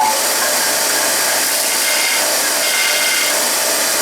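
A Vevor 13B drill grinder sharpens the tip of a drill bit, giving a steady, loud, hissing abrasive grind that holds unbroken for about four seconds with no voices over it.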